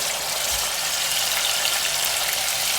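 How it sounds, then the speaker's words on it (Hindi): Water poured into a pan of frying tomatoes for egg curry, a loud, steady hissing sizzle and gush that holds evenly throughout, close up with no voices. "टमाटर में हम थोड़ा पानी डाल देंगे"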